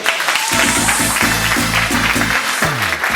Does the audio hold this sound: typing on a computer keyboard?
no